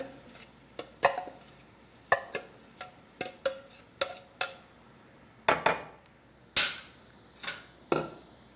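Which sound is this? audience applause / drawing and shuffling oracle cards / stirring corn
stirring corn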